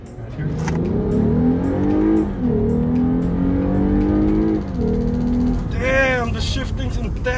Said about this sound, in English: Oh, it shifts so well! Downshift here.